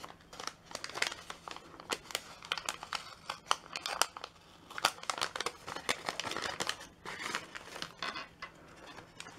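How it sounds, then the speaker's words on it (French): Small gift packages being unwrapped up close, with dense crinkling paper and sharp tearing bursts sounding continuously, no talking. "Donc je vais ouvrir d'abord les petits paquets."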